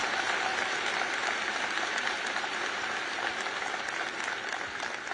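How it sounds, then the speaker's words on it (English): A large audience at a University of Alabama commencement ceremony applauds in a steady, dense wash of clapping that carries on evenly throughout. "So I would like to get a round of applause for Dr. Bell for 10 years of tremendous serv"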